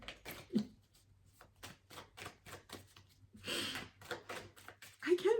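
Tarot cards being shuffled and drawn for a three-card spread, a quiet close series of separate flicks and slaps with short gaps, a longer riffling burst partway through, and faint breathy voice sounds at the start and end.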